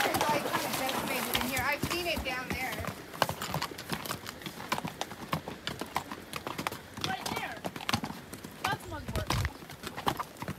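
A walking horse's hooves clop in an uneven rhythm along a trail, mixed under close conversation between riders throughout.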